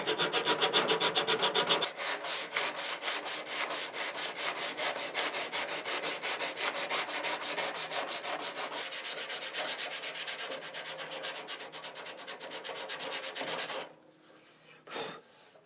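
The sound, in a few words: hand sanding with mini sanding block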